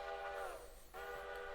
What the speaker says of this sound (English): That's a train right there.